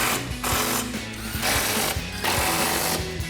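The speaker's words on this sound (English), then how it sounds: "Switch to our impact and 15mm socket." An impact wrench with a 15mm socket tightening front bumper bolts on a 2014-2015 Sierra 1500, giving repeated loud hammering bursts with short pauses between, close up and with no talking.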